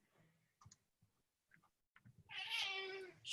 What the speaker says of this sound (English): we've got a cat in the background